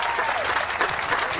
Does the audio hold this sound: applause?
yes